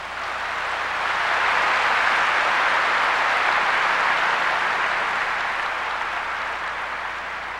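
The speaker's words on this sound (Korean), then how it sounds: "여러분들이 지금 그러겠다고 지금 박수 쳤거든요" An audience at a Buddhist Dharma assembly in Seoul breaks into sustained applause, a dense, even wash of many hands clapping that holds steady for several seconds with no voices over it.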